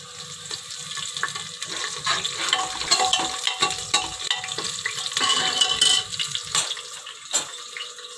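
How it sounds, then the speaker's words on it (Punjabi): Cumin and garlic fry in hot oil as a steady, close hiss and crackle, with occasional stirring scrapes mixed in. "ਮੈਂ ਤੇਲ ਦੇ ਵਿੱਚ ਜੀਰਾ ਤੇ ਲਸਣ ਪਾਤਾ ਆ"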